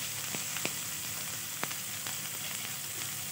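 Onion and green chili sizzle steadily in an oiled pan, a soft continuous hiss with occasional sharp pops and light utensil taps, close but fairly quiet, with nobody speaking.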